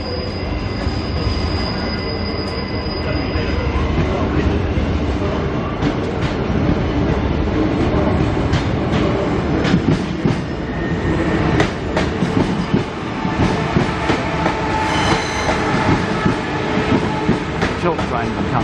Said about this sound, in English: Couple of trains coming into Roma Street.